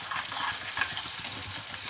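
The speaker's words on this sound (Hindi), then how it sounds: "तो चलिए ये रहा मेरा तड़का, इसको थोड़ा सा भून लेंगे।" Cumin, fenugreek, asafoetida, dried red chillies and onion sizzle steadily in hot oil for a tadka, a close, continuous crackling fry with no talking.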